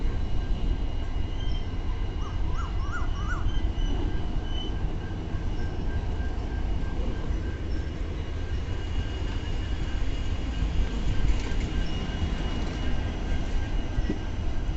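The Kazipet–Dadar special train arrives at Karimnagar station, a steady, loud rumble of rolling coaches with a few brief wheel squeals along the way, constant and close throughout.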